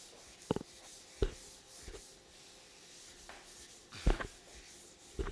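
Chalk or marker writing on a board during a chemistry lecture, a few short scratchy strokes and taps spaced irregularly, quiet and close, with no talking.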